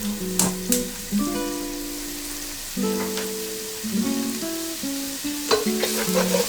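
Chopped garlic sautéing in a pan, a steady sizzle and fry broken by repeated stirring scrapes and clinks of a spoon against the metal, close and moderately loud with no voices.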